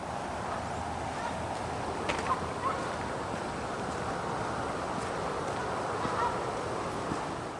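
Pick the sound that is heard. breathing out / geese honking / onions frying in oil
geese honking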